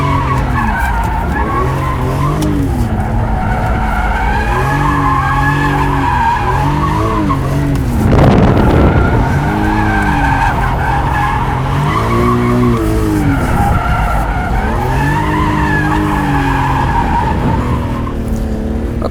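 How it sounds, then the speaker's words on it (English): BMW E46 M3 sliding through figure eights, its tires squealing and skidding almost continuously over a steady engine drone, with one louder, broader burst of tire noise midway through; nobody talks. "So now I'm gonna try figure eights."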